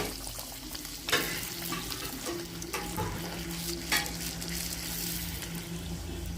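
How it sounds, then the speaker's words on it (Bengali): Fuchka puris fry in hot oil, a steady close sizzle and bubbling with a few sharp clinks and stirring knocks, no talking. "আমি এভাবে সব কটা ভেজে নেব"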